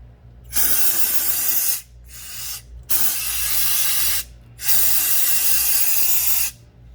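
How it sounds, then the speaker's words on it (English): Three long hissing bursts from an aerosol can of CRC brake cleaner sprayed on a Nissan R50 Pathfinder rear differential, each lasting over a second, with short pauses between them, close and loud. "We're just gonna spray things down with some CRC brake clean."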